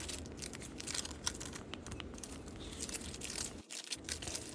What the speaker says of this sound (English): They have this crinkly noise to them.